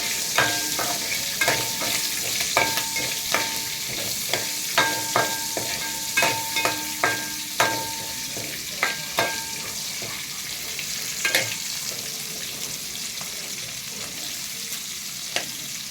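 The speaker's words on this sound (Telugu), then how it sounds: "మళ్ళీ కొన్ని క్యారెట్, పచ్చిమిరపకాయలు, బీన్స్ కొంచెం వేగనిద్దాం" Carrots, green chillies and beans fry in hot oil with biryani whole spices for paneer biryani. A steady sizzle runs under a series of sharp metallic spoon clinks and stirring scrapes, close and fairly loud, with no talking.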